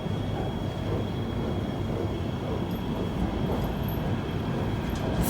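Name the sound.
MTR K-train at Yau Tong Station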